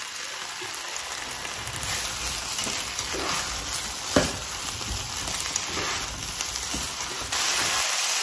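Onions fry and sizzle in a pan, a steady close hiss with occasional stirring knocks and scrapes, no talking.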